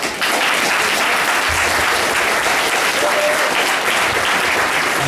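Steady, full applause from an audience for a group of panelists, loud and sustained throughout with a crowd murmur underneath and no break.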